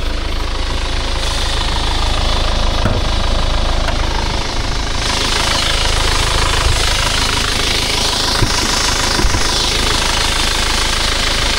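A 2015 Isuzu Crosswind's engine runs steadily at idle with the hood open, close up and loud. It makes a continuous rough rumble with a rattling, knocking texture and no talking over it.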